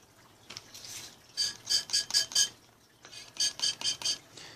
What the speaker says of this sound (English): you want to start out the water cycle for this by misting a lot of this down, getting some water going inside of here